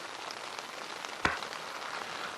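Steady rain drums on an iron-walled hot tent in an even, close hiss, with one sharper drop striking partway through.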